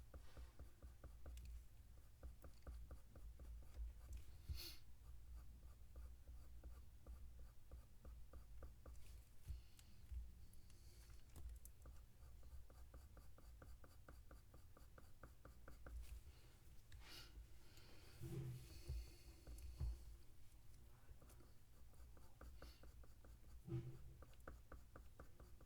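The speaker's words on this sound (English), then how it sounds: "So very small, light strokes of the pencil." Light, small pencil strokes on paper while drawing a fox portrait's nose: faint, continuous scratchy rubbing with soft scattered ticks, very quiet and close.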